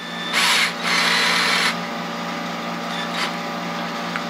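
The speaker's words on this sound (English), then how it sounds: "take the two ends and chuck it up in any drill" A power drill spins wire chucked in its jaws for a fishing lure, giving two short whining bursts up close, then a quieter steady hum with a faint brief rev near the end.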